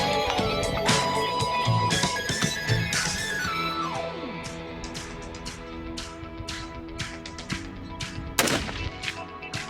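A Stag .308 rifle fires at an outdoor range with a 100-yard target, sending repeated sharp reports, with several closely spaced shots and one loud blast near the end over ringing background tones.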